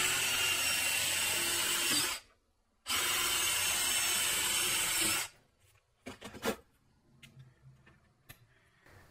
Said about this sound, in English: Then I'll use a pilot drill to make the first holes.